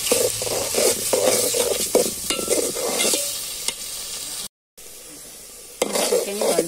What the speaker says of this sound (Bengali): মাছটা দিয়ে দিচ্ছি, মাছটা দিয়ে ভালো করে কষিয়ে নিব।